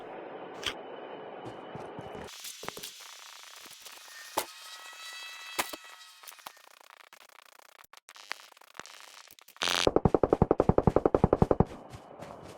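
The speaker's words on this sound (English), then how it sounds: "So here you go, they're shooting up ahead." Rapid bursts of automatic gunfire in the mobile shooter Call of Duty Mobile battle royale, sporadic distant shots giving way to a loud, fast rattling volley near the end.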